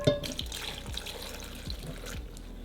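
Cooking water from boiled, rehydrated chiles poured into a blender jar while making carne adobada, a steady trickling splash with faint clinks, heard up close with no voices.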